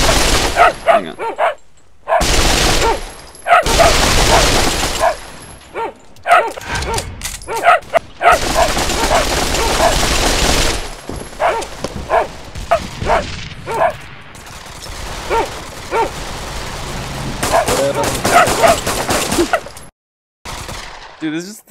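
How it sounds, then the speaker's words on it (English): A dog barks repeatedly in the VR shooter game Pavlov VR, sharp nearby barks mixed with bursts of gunfire and players talking over the noise. "Oh, there's the dog."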